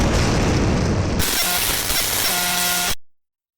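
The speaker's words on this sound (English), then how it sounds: "Suddenly the ops building rocked with explosions." A heavy, booming blast rumbles loudly, followed by crackling debris and a tonal whine, then cuts abruptly to silence.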